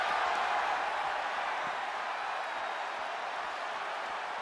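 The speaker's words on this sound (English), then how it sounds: "when you can't hear yourself think because the crowd's so loud" A dense, steady roar of crowd noise fills a wrestling arena in the WWE 2K22 video game and holds at an even loudness throughout.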